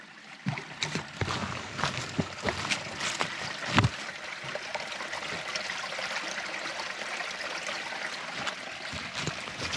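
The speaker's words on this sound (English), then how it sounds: "Check out this water sound." A small stream trickles through a soggy backyard on a walk, a soft continuous babble of water with a few sharper splashes and clicks near the start, otherwise quiet and even.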